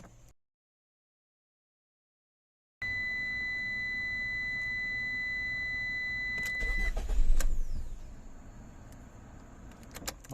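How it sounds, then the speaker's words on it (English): A Ram ProMaster City engine cranks after a starter replacement: silence, then a chime and steady tone as the key turns, followed by a loud rumbling crank that settles into idle, with no talk. "Well, starter's working."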